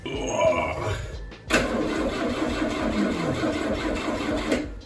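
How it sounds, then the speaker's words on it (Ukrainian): A Lada Zhiguli car engine cranks and catches, then runs with a steady rough mechanical drone, loud and close, with no talking. "Тож зараз будемо пробувати заводити двигун."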